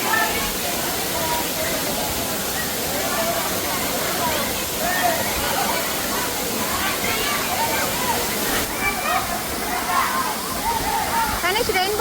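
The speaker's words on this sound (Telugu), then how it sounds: "సో వర్షాలు బాగా పడ్డాయి కాబట్టి ఫుల్ వాటర్ ఫాల్స్ ఉన్నాయి" A forest waterfall in the Nallamala hills, swollen after heavy rains, roars as a dense, unbroken hiss of falling water, loud and near, with voices faintly talking over the torrent.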